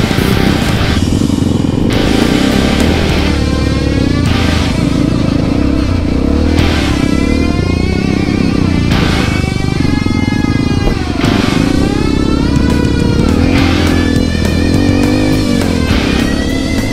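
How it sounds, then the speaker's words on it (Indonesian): A repaired motorcycle on a group ride sets off again, its engine revving and accelerating in repeated surges over a steady low rumble, loud and close with rising and falling pitch sweeps throughout. "Ginahinto lang kami ng konti kasi nasira yung motor ni Sir June."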